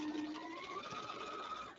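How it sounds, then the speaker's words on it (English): A sewing machine back stitches into a men's ballet shirt, producing a quiet, steady whirring run with a faint rising tone, close by and without talk. "Now I'm going to back stitch in the shirt, not in the seam allowance."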